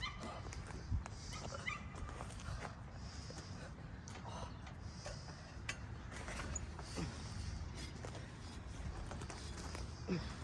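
A dog at a park whimpers and gives short, high yips in scattered bursts over a steady outdoor rumble, fairly close, with faint movement noises around it.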